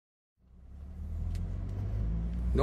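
A Scania truck diesel engine turning over at low revs, starting after a brief silence and settling into a steady, deep, close rumble that swells slightly toward the end.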